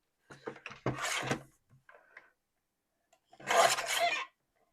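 Paper being trimmed by hand for a die in card making, a few short scraping and rasping strokes in two bursts separated by a pause, close and fairly loud.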